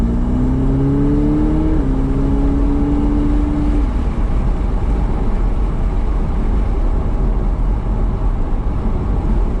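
A Ferrari F8 Spider cruises with a steady engine and exhaust drone, a gear-shift pitch change early on, then a constant low rumble and road noise at an even level, no talk.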